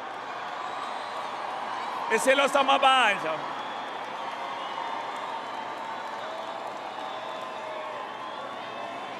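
A festival crowd claps for the King of the Zulu Nation, a short burst of applause and cheering lasting about a second, moderately loud against a constant murmur of a large outdoor audience.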